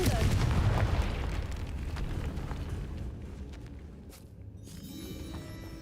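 A Confringo blasting curse from Hogwarts Legacy erupts in a loud, booming explosion right at the start, then rolls off into a fading rumble with softer game sounds trailing after.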